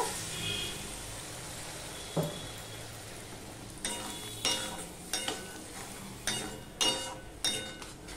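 Spice masala with potatoes is stir-fried in a pot for prawn curry: a steady low sizzle broken by a series of spoon scrapes and clinks against the metal.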